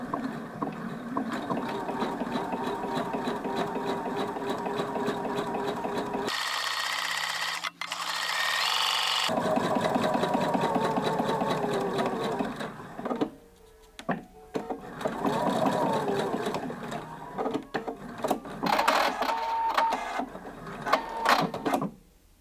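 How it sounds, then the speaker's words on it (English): A sewing machine stitching in the ditch runs in long steady bursts with a rapid mechanical whir, pausing briefly between runs. The machine sounds close and loud, and no one talks. "let's go ahead and sew that stitch in the ditch now"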